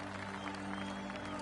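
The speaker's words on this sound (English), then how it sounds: "That deserves a golf clap" Spectator golf clap from a crowd in the PGA Tour 2K23 video game, a brief steady patter of applause over a low sustained background hum.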